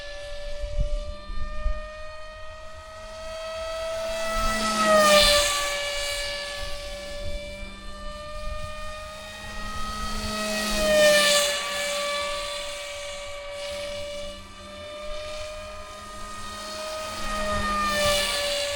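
Model F-22 jet's electric motor running at roughly 65–75% throttle, a loud continuous whine with rising and falling pitch sweeps as the aircraft moves past, no voices.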